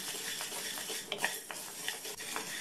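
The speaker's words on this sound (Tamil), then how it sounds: "இந்த வெறுங்கடாயில் 1/4 கப் பாசிப்பயிரை சேர்த்து வறுத்துக்கலாம்." A quarter cup of green gram (moong) is dry roasted in an empty kadai, with steady scraping and light metallic clinks of stirring against the pan, close and moderately loud, with no talking.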